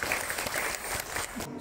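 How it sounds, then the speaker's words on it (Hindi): A crowd at a show in Ramoji Film City, Hyderabad, gives a brief, fairly loud round of applause, a dense wash of clapping from many hands that fades toward the end, with some voices mixed in. "Give them a big round of applause."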